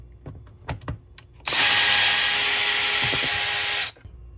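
A power driver with a Torx bit takes screws out of a Ryobi 40V 6Ah battery cover. A few light clicks and handling taps come first, then one loud, close, steady whirring burst of about two and a half seconds.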